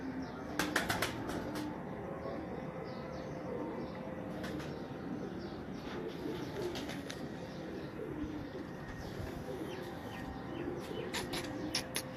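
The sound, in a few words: breeder pigeons cooing and flapping wings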